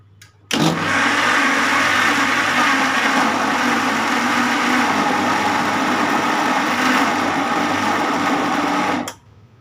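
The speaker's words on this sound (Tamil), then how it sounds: "இப்போ இதையும் நல்லா பீட் பண்ணிக்கலாம்." An electric beater whirs through wheat flour cake batter, switching on abruptly, running at a steady loud buzzing pitch for about eight seconds, then cutting off, with no talk.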